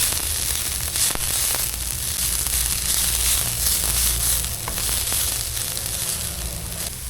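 Shredded cabbage sizzles and fries steadily in a hot pan for a chapati roll filling, a continuous close crackling hiss with no voices.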